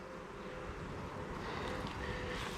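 Honeybees buzz steadily around an open hive during a spring inspection, a dense, close hum with some wind noise on the microphone and no talking.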